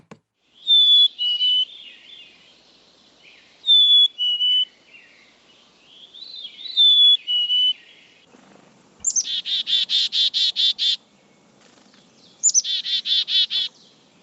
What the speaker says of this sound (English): is the cute little black cap chickadee that's common in our area. And I'm going to play their song for you.